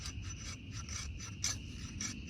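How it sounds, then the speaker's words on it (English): A sharp knife spine is drawn over a piece of fatwood in a quick, rhythmic series of close, raspy strokes, about four or five scrapes with no talking. "We want to do a little bit of spine scraping."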